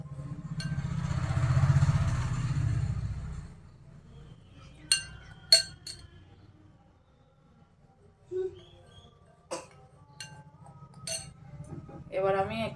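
Pitha batter with salt is stirred in a steel glass: a scatter of sharp, irregular metallic clinks and taps in a quiet kitchen, after a soft rumbling stretch at the start.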